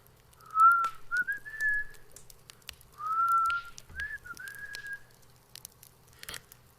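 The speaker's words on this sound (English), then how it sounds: "we heard the whistling" A person whistles a slow, wavering tune in two short phrases with a pause between, clear and fairly close, over a quiet room with scattered clicks.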